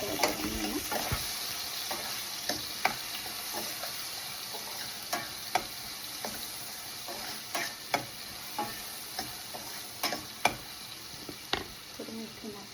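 Onions sautéing in a pan with turmeric and asafoetida: a soft steady sizzle underneath, broken by regular sharp taps and scrapes of a spoon stirring against the pan, close and fairly quiet.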